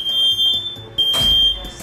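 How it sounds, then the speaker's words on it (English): Nest Protect and Kidde smoke alarms sound during a smoky wood fire test on a hot plate. Shrill, high-pitched beeping comes in sustained pulses with a brief gap, loud and close over faint background noise. "When Bernie created a smoky fire with chunks of wood left to burn on a hot plate, both the Kitta and the Nest responded promptly"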